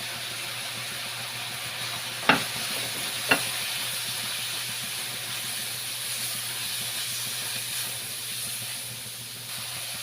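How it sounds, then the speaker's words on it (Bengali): Spice paste of ginger, garlic, chili powder, cumin, turmeric and ground coriander frying in a pan for a fish curry, a steady low sizzle and hiss with two sharp clicks near the start, no talking. "আমার মশলাটা কষানো হয়ে গেছে"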